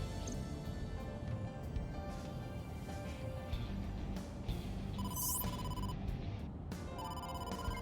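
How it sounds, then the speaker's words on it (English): Phone ringtone for an incoming call from the boss in the video game AI: The Somnium Files, a steady electronic ring under a continuous noisy background. "incoming call from the boss"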